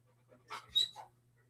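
A dog pants in a few short breathy bursts with a thin whimper in between, close and quiet against a low steady hum.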